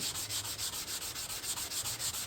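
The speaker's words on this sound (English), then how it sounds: "if you sand too much off, you just reburn it" Steady rhythmic sanding of wood, a rough back-and-forth scratching repeated about five times per second, close and continuous with no talking.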